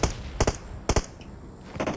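Rapid bursts of gunfire in Fortnite or PUBG: three clusters of quick double shots spread across two seconds, fairly loud against a noisy background, with no talk.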